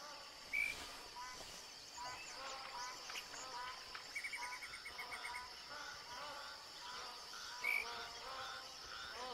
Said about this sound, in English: I can hear geese, but I can't see them.